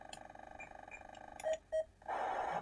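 Crash effect from Pole Position on the ZX Spectrum: two short buzzy beeps, then a harsh noisy burst, all over a steady droning engine tone.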